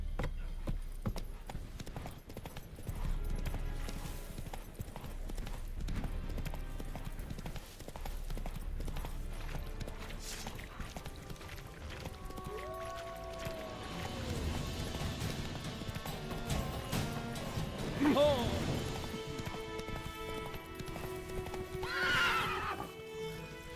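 Horse hooves clip-clop at a gallop through a video game world on Xbox Series S, with whinnying neighs rising near the end over steady background game sound.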